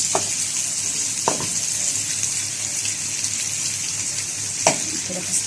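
Small marinated chicken slices, cooked from frozen, frying in a pan with a steady sizzle and hiss throughout, plus a few sharp clatters of utensils.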